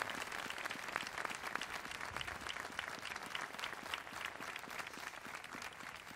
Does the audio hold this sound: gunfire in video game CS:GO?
no